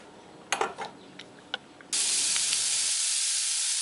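A gas torch heats metal for brazing with a filler rod. A few sharp clicks and taps come first, then a steady, loud rushing hiss from the flame holds to the end.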